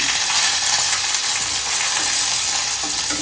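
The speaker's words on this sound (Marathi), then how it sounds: "मिरच्या भाजून घेणार आहोत आणि लसूण पण" Green chillies and garlic roast in a pan for a coconut-tomato chutney, giving a steady, close, hissing sizzle that runs without a break for about three seconds.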